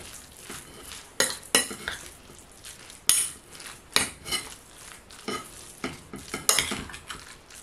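Spoonfuls of stuffing are scooped and pressed into a halved butternut squash, with repeated scraping clinks of a spoon against a dish coming in irregular bursts, close by and without speech.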